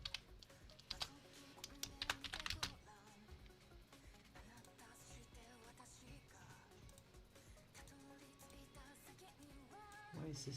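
Rapid, irregular keystrokes on a computer keyboard, clustered in bursts near the start and again at the end, with quieter tapping and background sound between.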